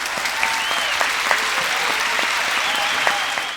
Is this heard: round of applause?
yes